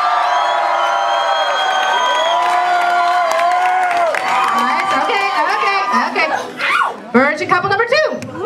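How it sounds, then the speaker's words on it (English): A television studio audience cheering, whooping and yelling, loud and sustained with bursts of high shouts and laughter, mixed with a host's voice talking over the crowd. "you will cheer, scream, yell as loud as you would like for your couple"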